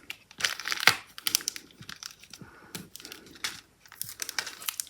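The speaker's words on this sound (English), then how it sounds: "Now to ensure that it stays on the card front, I'm going to use tear and tape." Tear and tape being torn and pressed onto a card front, giving close, quiet crinkling and crackling bursts with short pauses between them.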